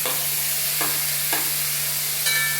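Chopped tomatoes and well-browned onions frying in a pan give a steady close sizzle, broken by a few scraping stirs of a spoon, with no talking.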